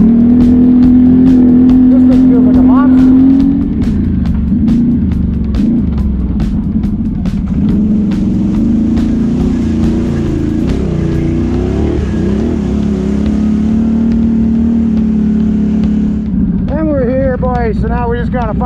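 A Renegade XMR1000R ATV fitted with a dry nitrous kit runs loud and close with a steady engine drone, then revs up and down in rising, falling sweeps near the end, with wind noise throughout.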